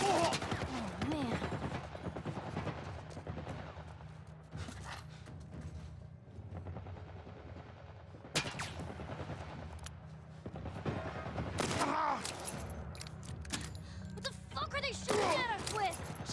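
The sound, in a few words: military turret gunfire in The Last of Us video game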